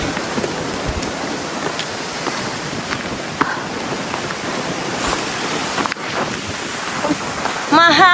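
Strong wind buffets the microphone in a steady, loud roar during a hike up La Mola, with brief gusts and faint background sounds throughout.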